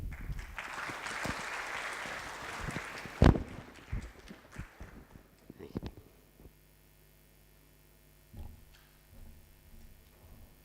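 A conference audience applauds, dense clapping from many people that fades after a few seconds into scattered claps, with a sharp thump and a few voices talking afterward.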